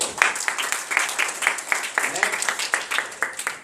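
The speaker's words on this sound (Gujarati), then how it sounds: "જોરદાર તાળી" A classroom group claps together in a fast, steady rhythm of sharp, even beats that carries on throughout, loud and close, with a little voice murmuring under it.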